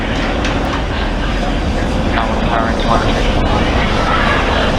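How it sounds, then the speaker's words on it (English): SpaceX Falcon 9 rocket engines thunder during the Crew-5 launch as a loud, broad, continuous rumbling roar, with a voice speaking over it. "Falcon 9 engines throttling down to help pass through the period of maximum dynamic pressure."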